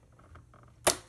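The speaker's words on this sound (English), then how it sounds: "close the little holder, and shut the clamp" The clamp on a Cricut cutting machine snaps shut, giving a single sharp click near the end after near-quiet.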